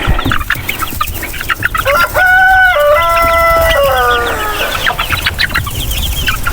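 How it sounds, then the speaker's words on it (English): Chickens cluck and chatter loudly up close, with a rooster crowing in the middle among the busy flock. "Yeah, I got lots of chicks in here."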